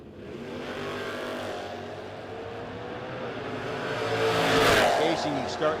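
A Camaro launches and runs down a drag strip at a no-box 660 shootout, its engine roaring and rising to a loud peak as it passes, with an announcer talking over the noise.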